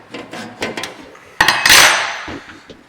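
A hammer strikes a small punch to drive a roll pin out of a snow blower part, several light metallic taps followed by two louder ringing blows whose clang lingers briefly.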